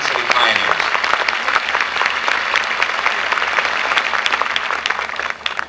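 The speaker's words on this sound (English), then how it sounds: "Nice round of applause for the Sun City pioneers." An audience at a Sun City 30th anniversary celebration applauds the Sun City pioneers, a dense, steady round of clapping that stays loud for several seconds before easing slightly at the end.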